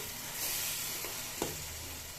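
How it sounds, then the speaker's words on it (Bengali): Chicken and potatoes sautéing with spices in a pan, a steady soft sizzle throughout with a couple of brief stirring scrapes. "সবগুলি উপকরণ একসাথে ভালো করে কষিয়ে নেব"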